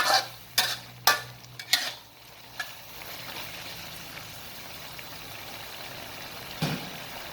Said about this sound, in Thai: ใส่พริกแกงนะครับ ผัดให้เข้ากัน